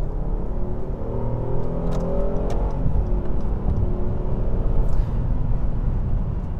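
Cabin view of a 2016 Acura TLX with a 3.5 liter V6 and SH-AWD, driving in normal mode: a steady mid-pitched engine hum over road rumble, swelling slightly as it pulls along, with no talk.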